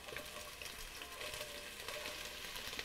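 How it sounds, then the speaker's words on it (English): Onions sauté in a pan with a faint, steady sizzle and crackle throughout, very quiet and with no voices. "Sauteing some onions, step one."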